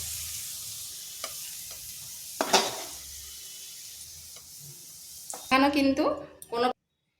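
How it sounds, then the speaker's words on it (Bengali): Onions fry in a pan with a faint, steady sizzle broken by a couple of scraping stirs, and a voice speaks near the end. "পেঁয়াজটা এইভাবে লাল লাল করে ভেজে নিতে হবে।"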